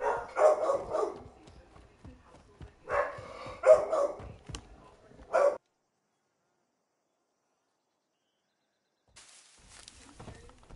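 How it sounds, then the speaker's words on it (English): A dog in a Warzone 2 match barks in several bursts close by, mixed with game sounds, before the audio drops to near silence. "fucking dumbass dog"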